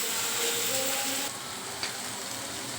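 Bitter gourd slices frying in a pan, a steady broadband sizzle running throughout at moderate loudness, easing slightly partway with one small sharp tick, no voices present.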